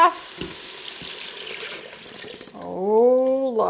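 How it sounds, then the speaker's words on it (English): Broth pouring into a soup pot of frying jalapeño popper soup base, a short sizzling, splashing rush of liquid over a few seconds, then a rising tonal gurgle as the pot fills. "Next, we're gonna add our broth."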